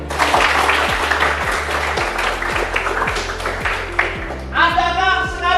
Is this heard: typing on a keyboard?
no